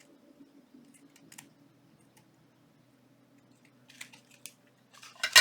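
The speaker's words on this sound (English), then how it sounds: "Let's go ahead and just cut around these like this." Scissors snip around paper pieces for a junk journal envelope, a few soft, close cuts that build into a louder burst of crisp snipping at the end.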